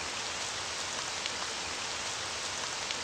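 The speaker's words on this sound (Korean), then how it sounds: "갑자기 비가 오네." Sudden rain falls as a steady, even hiss of drops striking surfaces, moderately quiet and uniform for the whole stretch with no voices.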